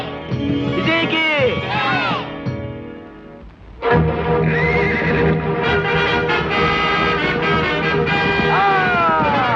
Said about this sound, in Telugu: ఇదెట్ట గుర్రం వెనక్కు పోతుందో.